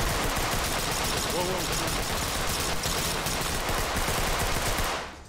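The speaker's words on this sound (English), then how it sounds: "There's a guy shooting at him." Gunfire in a multiplayer video game, a dense, sustained rattle of rapid shots that stays loud and even for several seconds before cutting off, with a voice exclaiming briefly over it.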